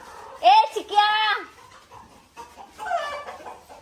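Loud, bright clucking calls from a rooster come in two quick bursts, then a softer call follows after a short pause.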